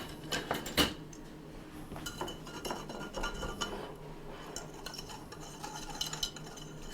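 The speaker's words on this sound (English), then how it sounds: "I'm going to get a little whisk" Butter and flour roux being whisked in a hot pan, giving light metallic scraping and clinking of the whisk against the pan, fairly close, with steady small taps and a sharper clink near the start.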